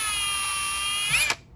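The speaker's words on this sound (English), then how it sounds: "I just used the drill bit, drilled them out" A drill bit bores holes through the frame of an OMP Hobby M4 RC build: a steady, high motor whine holds for over a second, then a short rough burst as the bit breaks through before it cuts off.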